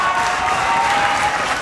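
Wrestling crowd cheering and applauding at a live event, a steady dense wash of clapping and crowd noise throughout, loud and sustained with no pauses.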